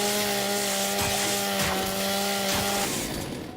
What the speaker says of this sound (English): That's a pretty good chainsaw animation, though.